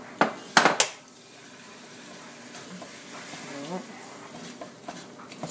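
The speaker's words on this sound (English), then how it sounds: "Let's get stirring around there and just get everything all happy." Spoon scraping and clanking in a pot while spices (pepper, salt, Old Bay, onion powder) are stirred into a Cajun seafood stew, with a few sharp clinks at the start followed by softer, quieter stirring.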